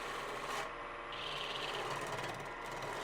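Spindle gouge shearing the wood on a lathe to turn away a nubbin on the bottom of a turned piece, a steady close rasping scrape with a brief brighter burst near the start, no talking.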